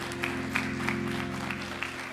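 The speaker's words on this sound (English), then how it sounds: "Let's give a hand clap of praise for our candidates once again." Church congregation clapping in praise during a Sunday worship service, a steady sustained patter of many hands at moderate loudness, with a low organ-like hum running underneath throughout.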